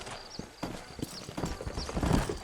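Horse hooves clip-clop in a rapid galloping rhythm in the video game Red Dead Redemption, close and steady, with faint whinnies and game ambience underneath.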